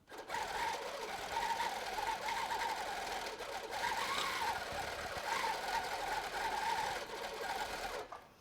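Baby Lock Gallant sewing machine stitching at high speed, a continuous fast, even mechanical whir and rattle held for about eight seconds, close and steady before stopping abruptly.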